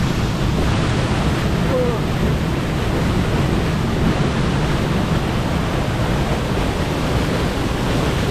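Rushing water at Palaruvi waterfall: a loud, steady, broadband roar that fills the whole stretch without a break, heard up close with no speech over it.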